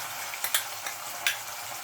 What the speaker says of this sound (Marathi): 2 मिनिट आलं लसूण पेस्ट परतून घेऊया, म्हणजे त्याचा कच्चेपणा निघून जाईल।